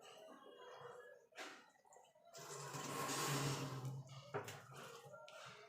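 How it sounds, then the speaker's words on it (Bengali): Milk is poured into pitha batter and stirred with a wet, sloshing, trickling sound that builds to a steady, fuller mixing noise at close range before tapering to softer scrapes. "এবার এখানে আমি দুধ দিয়ে ব্যাটারটা গুলে নেব।"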